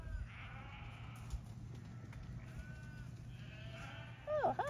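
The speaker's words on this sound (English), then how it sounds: "Never been stuck in a sheep jam before." A flock of sheep bleating on a road, several wavering bleats rising over a low rumbling background, with one louder, closer bleat at the end.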